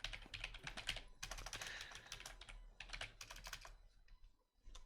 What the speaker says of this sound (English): I apologize for the loud typing on Twitch